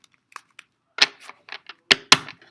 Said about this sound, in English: Get our fingers working out for the shuffle today in the lab.